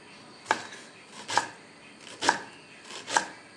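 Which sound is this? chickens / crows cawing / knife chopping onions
knife chopping onions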